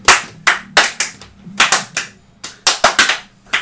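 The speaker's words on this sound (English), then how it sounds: "Out of sync clapping." A few people clap out of sync: sharp, separate hand claps in uneven clusters, close and loud, with no talking.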